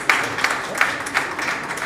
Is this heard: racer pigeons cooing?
no